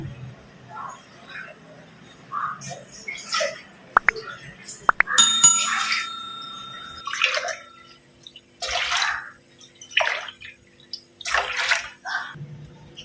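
Water is measured and poured for soaked rice and urad dal in a home kitchen, with splashy trickles and gurgles, a few metallic clinks of a vessel, and a voice speaking in between.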